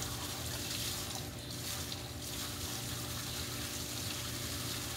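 Small waterfall of running water: steady, even rush and splash throughout, moderately faint, with no voices heard.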